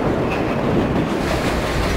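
Simulated New York subway train rumbling past in World of Subways 4, a loud, close, continuous low roar with faint rail clatter and no talking.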